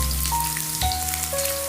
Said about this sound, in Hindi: अब हम स्प्रिंग अनियन को इसमें डालेंगे। मैंने चॉप कर रखा है बारीक।